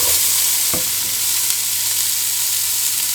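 Onion and carrot fry in oil in a single pot, a steady close sizzle with one brief stirring scrape early on.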